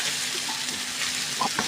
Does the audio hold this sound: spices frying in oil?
yes